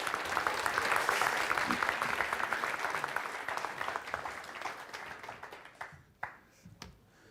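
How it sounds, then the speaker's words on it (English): A conference audience gives a speaker a round of applause, dense clapping that starts full and steady, then thins out and trails off into a few scattered last claps. "give a big round of applause for Jarno"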